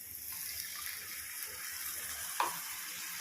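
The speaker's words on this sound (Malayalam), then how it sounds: "ഇതിലേക്ക് ഞാൻ 1 കപ്പ് വെള്ളം ഒഴിച്ച് കൊടുക്കുന്നുണ്ട് കേട്ടോ" A cup of water poured into a pan of pav bhaji masala brings a steady close sizzle and hiss, with a brief splashing burst near the end.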